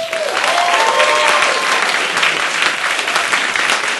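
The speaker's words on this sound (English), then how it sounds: "a warm round of applause for Josh Feldman" An audience at a comedy and storytelling evening applauds as a performer takes the stage, a loud, steady, dense wall of clapping with a brief whistle or cheer at the start.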